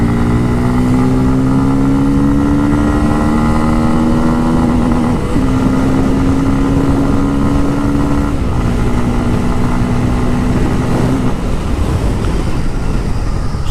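A Bajaj Pulsar F250 motorcycle accelerates hard on a ride test, its engine note rising loud and close through several gear changes with brief dips between pulls.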